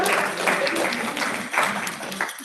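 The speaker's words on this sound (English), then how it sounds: "Clap it up." Brief clapping from a small group at the end of a racial equity activity, a dense patter of hands that fades slightly toward the end.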